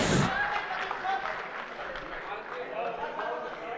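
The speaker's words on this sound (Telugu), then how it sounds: "కమ్ ఆన్ ఎవ్రీబడి, ఒక్కసారి గట్టిగా చప్పట్లు టు అవర్ ప్రొడ్యూసర్స్." An audience at a success shield ceremony applauds the producers, a dense wash of clapping that swells at the start and then holds steadily, with crowd voices mixed in.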